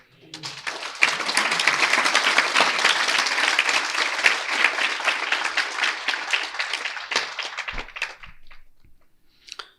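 An audience claps after a Srimad Bhagavatam lecture at an ISKCON temple; applause swells quickly, holds dense and even, then thins into scattered claps and fades to near silence at the end.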